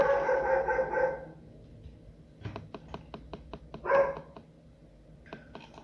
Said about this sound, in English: sorry about that was just my dog's barking.